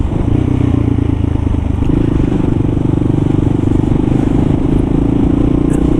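Kawasaki KLR 650 motorcycle ridden through city traffic from Harlem to Long Island City, a loud steady engine drone with road rumble and wind, continuous and close, no speech.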